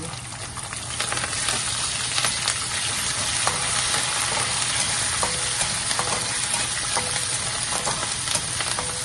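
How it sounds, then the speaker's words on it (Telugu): Green chilies and curry leaves fry in hot oil for poha, a loud, continuous crackling sizzle with intermittent spatula scrapes and ticks, heard close up without speech. "మిర్చి ఫ్రై అయింది."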